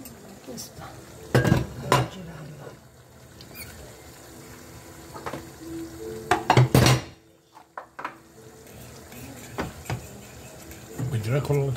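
Squid ink pasta sauce with cherry tomatoes gets stirred in a pan: scattered, close clatters of a utensil scraping and knocking against the metal come in short bursts, with quiet pauses between.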